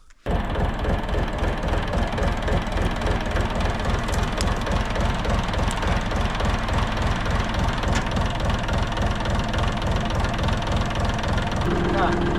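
A running engine on an Arpal AM mini tractor, a steady loud chugging idle with a regular rhythmic knock, close and continuous throughout, with light mechanical clatter on top.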